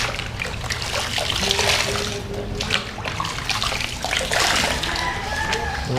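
Water splashes and runs steadily while a motorcycle is rinsed during a wash, a continuous close hiss with spattering bursts.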